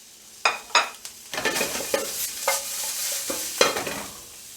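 Onion and garlic stirred into a hot pan with chicken feet, giving a steady sizzle broken by several scraping stirs and utensil knocks, close and fairly loud, with no talk.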